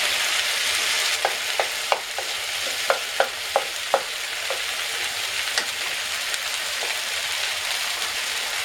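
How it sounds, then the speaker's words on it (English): Steady oily sizzle of eggplant frying in a skillet, with a run of sharp spatula taps and scrapes against the pan in the first few seconds, then continuous frying hiss, no voices. "we stir and fry again for 2 or 4 minutes"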